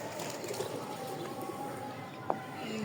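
Pigeons coo softly and intermittently near a feeding spot where medicine has been added to their water, with a brief sharp knock partway through and a steady background hum.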